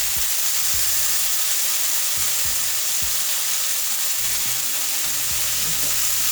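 Cauliflower stir-fries in oil, with a splash of sun-dried tomato oil, in a hot pan: a loud, dense, continuous sizzle close up, with low rhythmic thumps from stirring or tossing underneath, no speech.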